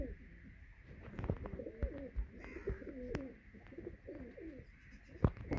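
A pigeon coos in repeated soft, low rounded phrases close by, with light clicks and small knocks around it and a quiet background.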